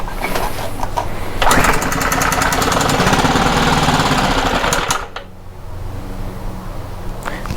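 A Stihl BR800 blower engine runs loud and close with a rapid ticking, knocking rattle, then the revs drop sharply to a lower, steadier idle partway through.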